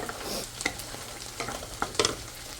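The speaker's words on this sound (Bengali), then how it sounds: "লবণটা দিয়ে আমি মশলাটাকে খুব ভালোভাবে কষিয়ে নিব" Spices cooked down with salt in a pan, with scattered stirring scrapes and soft bursts of sizzling frying, close and intermittent, with no talk.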